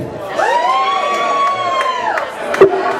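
A concert crowd at a live funk band show at The Rendezvous cheers loudly, with sustained whoops and high shouted voices swelling together and then tapering off, near and energetic.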